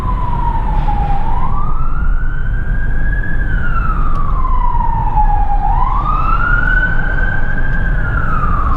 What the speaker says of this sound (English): Now I hear sirens.